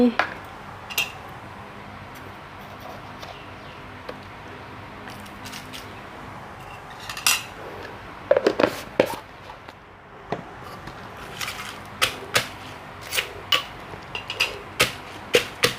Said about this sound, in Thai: ตำพริกให้มันแหลกง่ายนี่กะยี่แดงกะสิใส่น้ำปลา